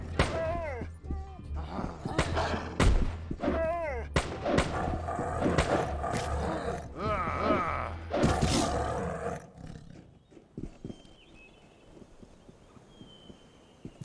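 Gunfire in the role-playing game Arcanum: Of Steamworks and Magick Obscura comes as several loud booming shots mixed with roaring creature sounds, then fades to a quiet ambient tail.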